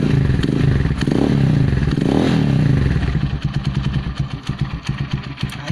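A Gamma 200 motorcycle fitted with an Akrapovic carbon fiber muffler revs hard and loud at close range, then drops back to a high, rapidly pulsing idle.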